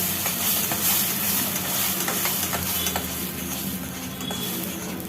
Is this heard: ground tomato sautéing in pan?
yes